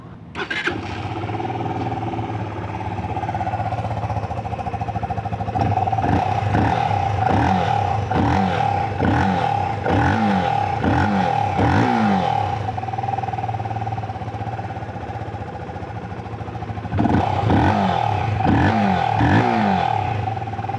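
A 2025 Modenas Z15GT 150cc motorcycle engine starts with a brief crank, then idles steadily close by, with a series of sharp throttle blips in the middle and another burst of revving near the end.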